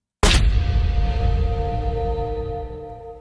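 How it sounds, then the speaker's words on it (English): Unveiling sound effect for Twitter's new X logo, a sudden loud booming hit followed by a sustained, slowly fading tonal hum that rings out for about three seconds, heard alone. "That is the sound of Twitter unveiling its new logo / name"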